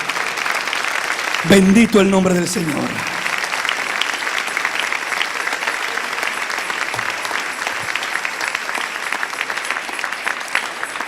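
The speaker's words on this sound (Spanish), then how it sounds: "Den un aplauso al Rey si lo siente en su corazón." Congregation applause fills a church service, a steady broadband clatter running throughout, briefly overlapped early on by a man's spoken praise.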